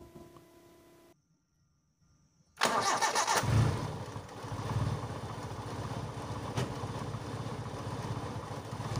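A car engine cranks and catches after a brief quiet, then settles into a loud steady idle with a slight rise in revs, heard close and alone.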